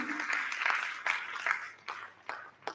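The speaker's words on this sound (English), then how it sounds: "So many congratulations here with the applause, and the applause must continue." Audience applause at a legal awards ceremony, a dense wash of many hands with a few sharper individual claps standing out, moderately loud and continuous for a few seconds.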